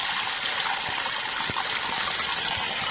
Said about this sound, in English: Notice the water pouring in here.